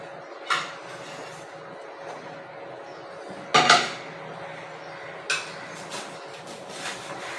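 A metal lid clanks onto a pan while bread pizza cooks, giving a few sharp knocks and rattles against a quiet kitchen hum, with one louder clatter in the middle.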